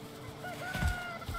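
Chickens clucking in the Valheim video game, a few soft fowl calls over a low background hum, fairly quiet.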